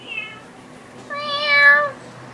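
A person imitates a cat's meow for a child, a short faint call followed by a longer, louder meow, with no other talk.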